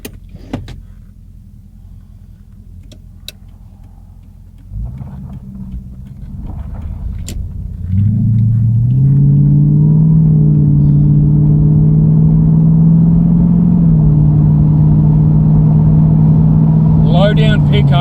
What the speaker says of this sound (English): So I'm just going to leave this one open so you can hear what I'm hearing exhaust wise.